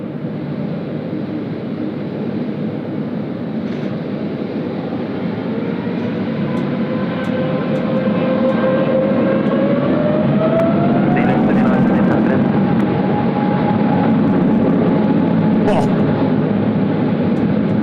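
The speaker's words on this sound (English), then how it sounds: "We've just got to get all these aircraft out." A jet aircraft at Sydney Airport in high wind, a loud continuous engine roar with a slowly rising whine building over the gusty rumble, heard close and steady throughout.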